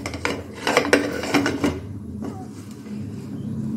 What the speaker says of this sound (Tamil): குக்கர் மூடியை போட்டு மூடிக்கலாம்.